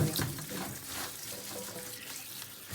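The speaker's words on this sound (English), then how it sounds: "Put them in and wash your greens through." Stinging nettle greens are swished and rinsed in water, giving a continuous close splashing and running-water sound like a filled sink.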